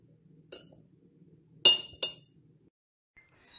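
Glass mason jar clinking as minced garlic is added, with a few sharp, bright clinks close by over a faint background hum.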